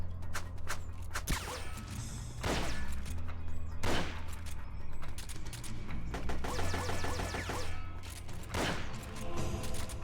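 Gunfire in the video game Metal Gear Solid: Portable Ops, a few sharp cracking shots spaced apart over continuous game music and effects, loud and close.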